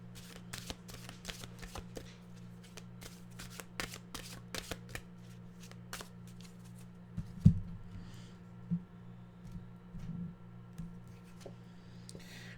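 A deck of mantra cards is shuffled by hand in a quiet room, a series of soft crisp riffles and flicks in irregular bursts, fairly close and faint, over a low steady hum.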